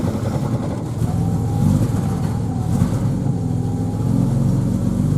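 A 1960 Jaguar Mk2 with electric choke and new fuel pump idles steadily after a cold start on a chilly morning, a loud, close, continuous engine drone with a slight rise partway through.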